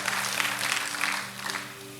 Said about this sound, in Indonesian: Kasih tepuk tangan kepada Tuhan.